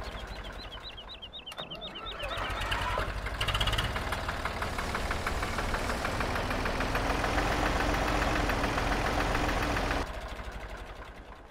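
An old tractor engine in Farming Simulator 17 cranks on a cold start, then catches and settles into a loud, steady knocking idle that runs for several seconds before cutting back.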